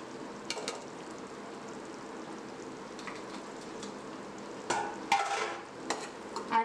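Masala being stirred and mixed into mushrooms in a pan for mushroom biryani, a steady soft scraping and sizzle with a few sharper clatters of the spoon near the end.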